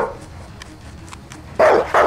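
Video game dogs barking in a Resident Evil parody: a quiet, low rumbling stretch, then two loud, close barks in quick succession near the end.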